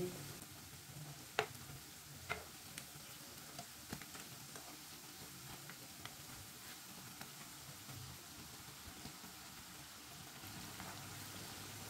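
Raw potato tikki frying in a pan, a faint but steady oil sizzle with a few small pops and a soft utensil tap early on, continuous and unaccompanied by talk.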